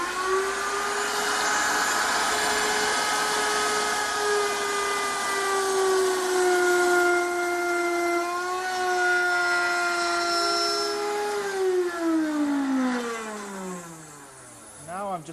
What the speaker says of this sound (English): Now I'm just going to raise the router up a little bit to cut the mortise deeper.